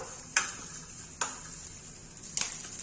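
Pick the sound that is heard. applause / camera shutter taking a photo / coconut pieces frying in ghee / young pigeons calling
coconut pieces frying in ghee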